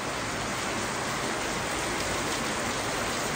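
Rain falls on the first day of the rainy season as a steady, dense, even hiss that lasts throughout without a break, with no voices.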